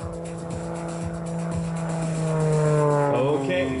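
An aerobatic airplane at the 2009 NAF El Centro air show drones with a strong, steady engine tone that swells louder and climbs in pitch toward the end as it pulls up into a loop.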